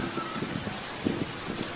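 Rain falling steadily, a dense even hiss of drops with a few louder splashes, heard alone without voices.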